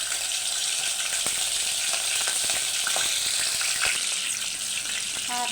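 Ground spice paste added to hot oil in a pot while cooking a beef kebab with yogurt, giving a steady loud sizzle and hiss with occasional scraping and stirring clicks throughout.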